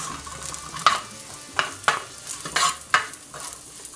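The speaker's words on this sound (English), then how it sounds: "I'm going to put in my chorizo, and I'm going to cook that up first" Chorizo frying in olive oil for paella, a steady close sizzle broken by several sharp scraping stirs of the spatula against the pan, with no talking.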